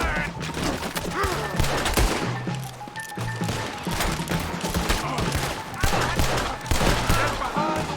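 Dense gunfire from a Red Dead Redemption 2 shootout, a fusillade of overlapping rifle and pistol shots crackling continuously for the whole stretch, loud and near, with faint voices now and then beneath.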